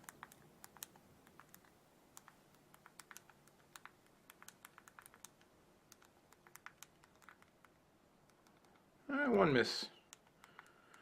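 Rapid clicks from the hardware keyboard of a Palm Pixi phone on Sprint, faint and close, keep an irregular rhythm for about nine seconds, then a brief louder rustle or handling noise follows.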